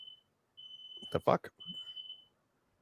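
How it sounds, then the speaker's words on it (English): A fire alarm beeps in a steady high tone, cutting out briefly and then sounding again at moderate level while a person speaks over the middle of it. "That's a fire alarm going off."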